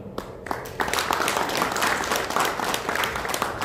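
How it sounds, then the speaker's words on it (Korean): A crowd claps steadily for several seconds at a Korean political launch event, with dense, even applause and no voices above it. "큰 박수로 환영해 주십시오."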